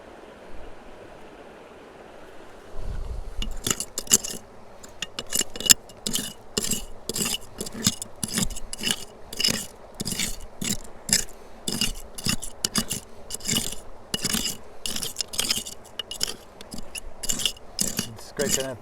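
A homemade metal crevicing scraper rasps against rock while gold prospecting on a river, giving rhythmic, repeated scratching strokes up close after a few seconds of faint flowing water.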